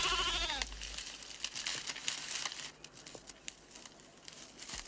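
A goat bleats in a 1980s live-action Snow White fantasy film: a short, wavering bleat right at the start, followed by crinkly rustling and scattered clicks.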